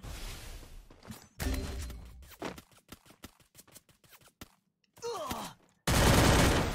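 Gunfire in an online shooter game: several loud separate shots and short bursts spread across a few seconds, with quick rattling volleys between quieter gaps and a sustained loud blast at the end.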